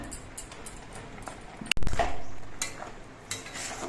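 Pineapple chutney with dry fruits being stirred in a pan, with soft scraping and clinks from the spoon against the pan, plus one sharper knock partway through, close and steady with no talking.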